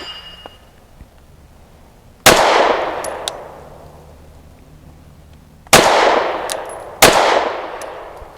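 Three sharp pistol shots from a Canik METE MC9L firing Fiocchi 100 grain leadless frangible rounds at an outdoor range, spaced unevenly, each loud crack followed by a long ringing decay.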